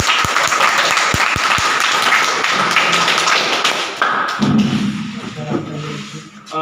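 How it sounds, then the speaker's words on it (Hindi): Audience applause at a commerce coaching class anniversary event, loud, close clapping with a few heavy thumps early on, dying down after about four seconds as voices take over. "अमन सर के लिए तालियां।"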